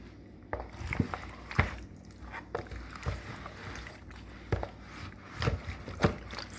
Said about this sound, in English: After you have everything in the sauce, you stir.